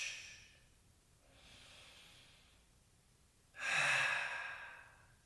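Slow, deep breaths during a hip-opening yoga session: two soft, airy breaths, then a louder, fuller exhale near the end that rushes out close to the mic. No talking.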